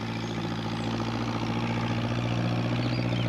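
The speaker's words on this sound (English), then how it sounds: "What with the noise of the tractor, Peter Fogg didn't hear Pat's call." A heavy tractor engine idles steadily, a low continuous chugging drone with a faint rhythmic pulse, moderately quiet and unchanging.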